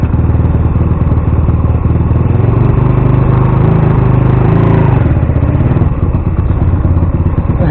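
A GSXR 50cc motorcycle engine, still warming up, runs loud and close with a steady buzzing clatter. A thunk and a shift in the engine note mark it dropping into gear.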